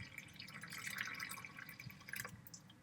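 Milk poured into a mixing bowl while baking pesto star bread, a soft, steady liquid trickle and splash heard close up and quiet, with no talking.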